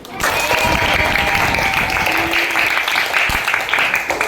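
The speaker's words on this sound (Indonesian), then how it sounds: "tepuk tangan untuk Arif" Classroom applause from pupils fills the whole stretch, a dense, steady patter of many hands at close range with children's voices mixed in.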